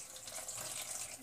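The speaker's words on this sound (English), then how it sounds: "we're going to add some water to this." Water poured into a cucumber, lettuce and lime agua fresca, a soft, steady hissing stream of liquid filling a container, close and quiet, brief and unbroken.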